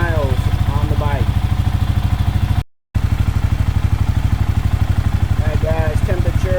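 A Kawasaki KLR650 motorcycle engine idles while warming up, chugging in a steady, even rhythm close by. Someone talks over it.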